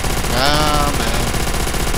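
Rapid gunfire rattles through Call of Duty: World at War, a dense continuous burst with a voice briefly speaking over it.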